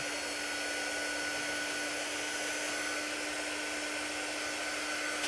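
Hair dryer blowing on a paper pumpkin cutout, a loud steady whooshing hum with a constant tone, close and uninterrupted, no talking.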